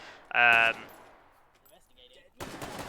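Gunfire in the H3VR (Hot Dogs, Horseshoes and Hand Grenades) video game during an F2W competition match: a short rapid burst, then a quiet gap and a second noisier burst, with faint commentary.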